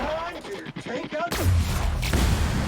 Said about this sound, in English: Really high rate of fire on this.